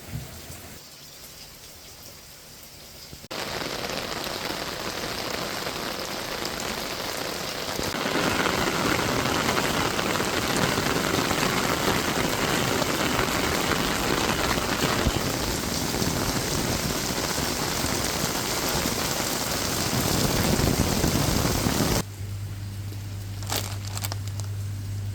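Heavy rain pours down on Nusa Ceningan, Bali, a thick continuous hiss of drops on surfaces that swells louder midway and holds before cutting off near the end.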